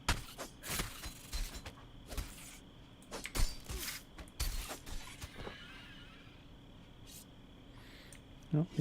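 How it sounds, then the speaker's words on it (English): Crickets chirp faintly at night in Embers Adrift, a soft steady insect trill underneath sharp clicks and bangs of game interface and movement sounds. "you can hear the crickets have come out"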